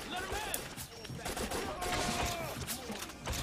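Video game gunfire in 50 Cent: Blood on the Sand, a dense run of rapid shots crackling and echoing through game music and effects, sustained throughout with someone talking faintly over parts of it.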